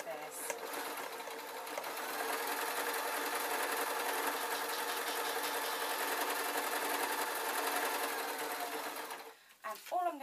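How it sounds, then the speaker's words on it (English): A sewing machine runs steadily for about nine seconds, stitching along one long side of fleece fabric for a glasses case, then stops. A voice speaks briefly at the end. "I'm going to sew along one long side of this"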